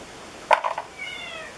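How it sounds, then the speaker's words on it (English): A house cat gives a short, faint meow, a brief chirping cry followed by a softer trailing tone, heard alone against quiet indoor background. "Can you hear my cat?"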